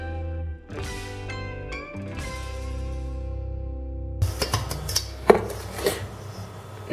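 Milk and oil being stirred together in a bowl for an eggless, butterless Nesquik cake batter, heard as a short burst of irregular clinks and scrapes from a utensil against the bowl after a stretch of music.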